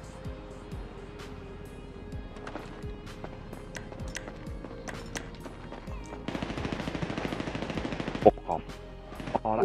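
Rapid bursts of automatic gunfire and single shots in a GTA 5 rooftop custom deathmatch, crackling steadily over several seconds, with a denser, louder volley near the end and faint game ambience underneath.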